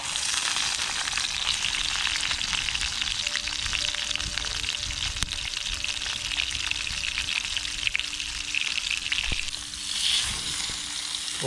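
Meat rubbed with salt and pepper sizzles and spits steadily in oil in a frying pan, a continuous close crackle with occasional pops, cooked outdoors near a river dugout.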